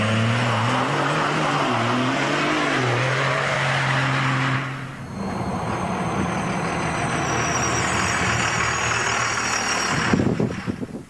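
A diesel truck engine with twin turbos and a straight 5-inch exhaust idles with a deep, steady rumble, close and loud, shifting tone midway and ending with a brief surge.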